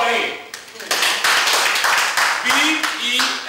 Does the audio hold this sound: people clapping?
yes